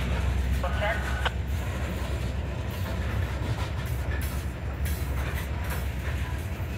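Norfolk Southern freight train hauled by EMD locomotives rolling past, a steady loud rumble with rail noise and clatter of wagons, a brief horn-like tone early on.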